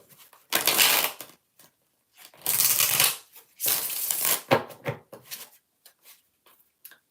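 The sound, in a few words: shuffling cards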